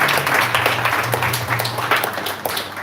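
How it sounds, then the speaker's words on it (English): An audience applauds after a spiritual class, steady dense clapping from many hands that carries on throughout without a break. "Let's give him a huge round of applause."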